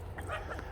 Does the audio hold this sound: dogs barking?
yes